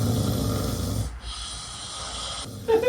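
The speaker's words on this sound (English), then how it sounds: "my friend's snoring abilities are unmatched" A person snoring, with a broad, rough low rumble that fills the first second, then softer breathy continuation and a brief louder snort near the end.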